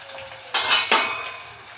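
Spoonfuls of turmeric, coriander, cumin, garam masala and red masala being stirred into oil in a home kitchen pan, with two sharp scraping clinks of a metal spoon against the pan over a steady faint background hum.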